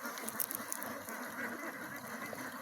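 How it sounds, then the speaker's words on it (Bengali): Ducks quack and honk in a large flock on a farm, a dense continuous chorus of overlapping calls heard at a moderate distance with no talking. "বিশালই এটা খামার, অনেক হাঁস আছে"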